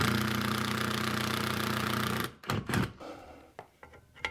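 A power drill whirs steadily for about two seconds while installing a baby gate on stairs, then stops, followed by a few clunks and taps.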